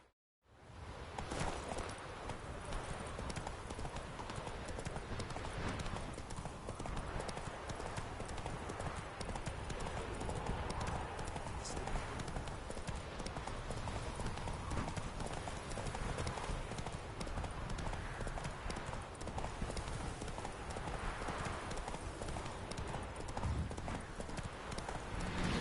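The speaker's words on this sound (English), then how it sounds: "Whoa there, Roach." Horse hooves clip-clopping steadily in The Witcher 3 game, a continuous trotting rhythm over a dense, loud background of ambient game sound across the whole stretch.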